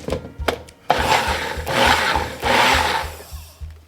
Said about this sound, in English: I'm gonna put it in the blender